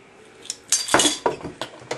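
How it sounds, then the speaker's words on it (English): A glass bowl handled among tablespoons and kitchen tools while hair butter ingredients are set out, giving several sharp clinks and knocks in a quick irregular series, close and fairly clear. "My glass bowl."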